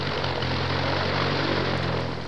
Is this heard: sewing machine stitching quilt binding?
no